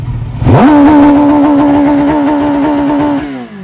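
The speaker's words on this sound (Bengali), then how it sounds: "আমি ফুল থ্রটল করব" A Kawasaki ZX10R sport bike engine snaps from idle to full throttle and holds a loud, steady high-rpm scream for nearly three seconds near the rev limit before dropping back down.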